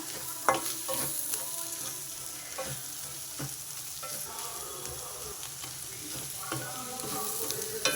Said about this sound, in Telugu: ఈ కారం ఇదంతా కొంచెం వేగాలి బాగా